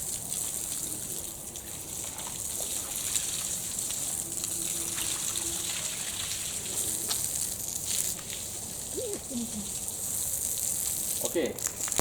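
Pure water pours and trickles over utensils during the seventh rinse of an industrial ritual cleansing, a soft continuous splashing with occasional clinks, heard alone.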